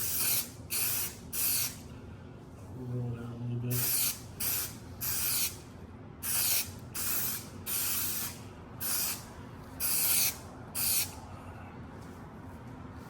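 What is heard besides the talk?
spraying adhesive onto car headliner material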